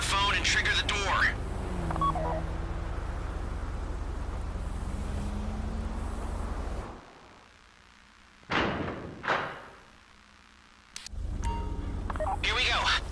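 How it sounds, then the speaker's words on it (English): Grand Theft Auto V Fleeca Job heist: a steady low engine-like rumble drops away to near quiet, and two short sharp bursts sound as the vault door is triggered by phone, before the rumble returns. "Take out your phone and trigger the door."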